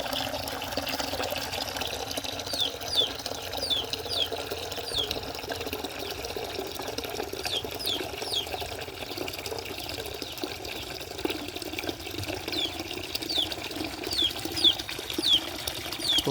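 Steady splashing and sloshing water throughout, with busy fluttering wing flaps and small chirps over a constant watery wash as pigeons bathe.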